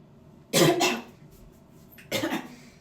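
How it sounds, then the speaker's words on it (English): Two loud, harsh throat-clearing bursts from a close voice, separated by a pause of about a second, with quiet room noise between. "Now let me clear my throat."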